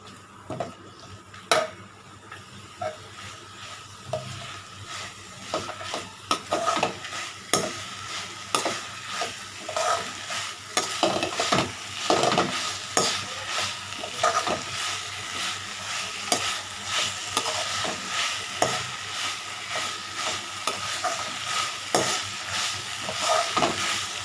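Mint leaves sautéing in a pan for an onion-tomato chutney, with steady sizzling and frequent scraping stir strokes throughout, close and fairly loud, no talking.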